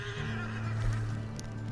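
A horse whinnies in Red Dead Online, a brief, drawn-out call over a quiet, steady game ambience.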